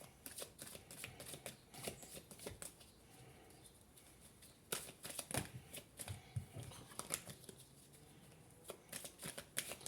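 Tarot cards are shuffled by hand, quick papery riffles and slaps in bursts with short pauses, close up and fairly quiet, no talk over them.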